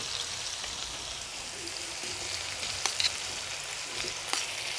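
Three-colour capsicum pieces dropped into a hot pan over high heat, giving a steady, even frying sizzle with a few faint clinks and no talk.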